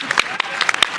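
Audience applause for a speaker's father at a Rare Disease Week event on Capitol Hill, a brief burst of scattered claps mixed with voices, close and fairly loud.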